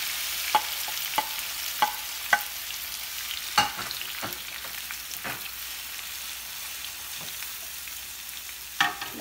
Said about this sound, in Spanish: aquí tengo chile morrón, cebolla y jitomate picado, que voy a hacer una salsita aquí frita